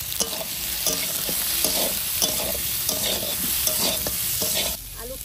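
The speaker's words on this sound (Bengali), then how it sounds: "আলু কষানো হয়ে গেছে" Potatoes with turmeric and salt sautéing in a kadai wok, a steady dense sizzle with repeated scraping stirs of the spatula, close and continuous, no talking, easing off at the very end.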